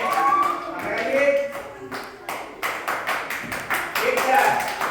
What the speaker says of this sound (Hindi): चलिए ताली बजाइए।